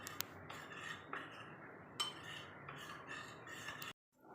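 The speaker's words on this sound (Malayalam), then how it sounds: "കുറച്ച് വെള്ളം ഒഴിച്ച് നമുക്ക് മിക്സ് ചെയ്യാം." A spoon stirs custard powder mixed with a little water in a bowl, giving close, quiet clinks and scrapes in a steady rhythm that stops abruptly near the end.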